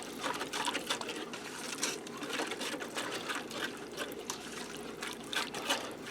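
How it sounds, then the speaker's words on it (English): A plastic spatula stirs beef broth in an Instant Pot, scraping the bottom to loosen browned bits for Salisbury steak gravy, with soft continuous liquid swishing and sloshing that is fairly quiet and close. "I'm going to get in here with a plastic spatula and stir it around and loosen up the goodness off the bottom of the Instant Pot"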